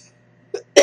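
A woman gives two short coughs, a soft one followed by a louder, harsher one, close and alone.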